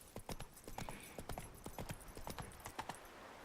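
Horse hooves clip-clopping at a steady trot in The Witcher 3, a rhythmic run of close, sharp hoof strikes with no talk over them.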